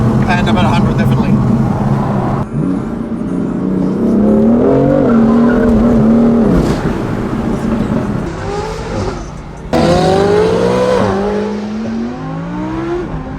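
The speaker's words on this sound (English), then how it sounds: "Second gear pull from 50." A car accelerates hard in a second-gear pull from 50 on a mountain road, its engine note climbing steadily and loud up close, then dropping at a shift before revving up again, with voices heard over it.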